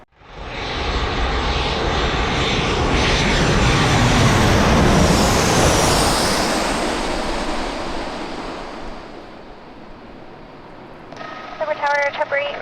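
A Southwest airliner roars loudly as it lands on runway 27 at San Diego airport, building to a broad, whooshing peak and slowly fading, with a brief radio voice at the end.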